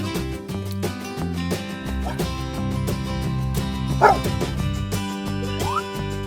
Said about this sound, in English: Blue dog.